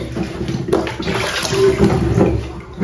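Running water splashes and gushes continuously as a dirty ondel-ondel mask is washed, loud and close, with surges and small slaps of water throughout.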